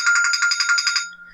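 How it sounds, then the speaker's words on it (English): A mobile phone ringtone plays loudly, a bright repeating electronic melody pulsing in quick even bursts for about a second before cutting off, with no talk over it. "That's my phone."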